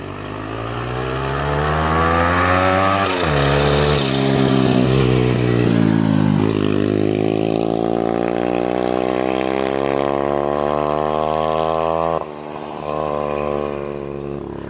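A turbocharged Loncin vehicle engine revs hard in cold winter conditions, climbing to a loud, high, strained whine that holds near the rev limit, dips briefly, then surges again, close and without talk.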